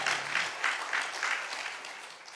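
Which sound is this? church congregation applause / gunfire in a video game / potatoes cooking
church congregation applause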